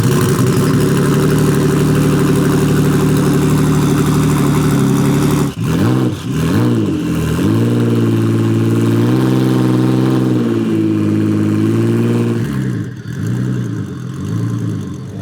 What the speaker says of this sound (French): on va démarrer la voiture et voir si après tout ce chemin, après 2 mois dans le container, tout fonctionne bien